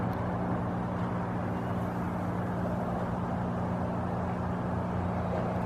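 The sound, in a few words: road traffic in Sitka, Alaska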